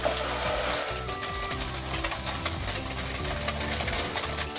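Tofu egg fries in a little hot oil in a pan, with a dense, steady sizzle and crackle heard close and loud throughout, without speech.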